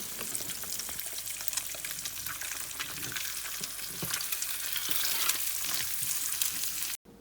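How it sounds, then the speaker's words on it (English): An egg fries in hot butter in a pan, giving a loud, dense, continuous sizzle with crackling spits throughout that swells slightly toward the end before cutting off abruptly. "Just heat the butter in the pan and then add your egg."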